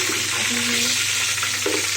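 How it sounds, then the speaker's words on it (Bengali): Continuous loud sizzle of chicken pieces frying in oil, close up, with faint clinks and a brief low tone near the end. "মুরগিগুলো ভাজা হয়ে যাচ্ছে"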